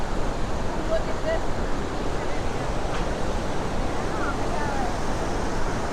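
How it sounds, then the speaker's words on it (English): Rushing water at Iguazu Falls in Argentina, heard from a far lookout on the upper walk as a steady, broad roar with no breaks, constant and moderately loud throughout. "That is rushing water."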